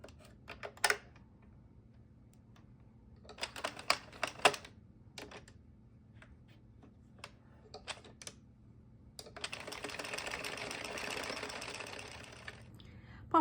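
An Addi 46-needle knitting machine clacks through rows, sharp rattling bursts and clicks early on, then a longer, steady whirring run of the crank near the end, close and alone without talk.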